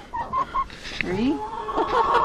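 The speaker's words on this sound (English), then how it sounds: "chicken" Chickens clucking close by on a snowy country homestead, several short rhythmic clucks and a rising squawk in quick succession, with faint background noise.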